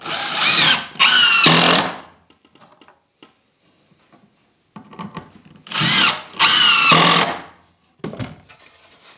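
A power drill drives screws into wood in two pairs of loud, close whirring bursts, each rising in pitch, separated by quiet pauses with faint clatter.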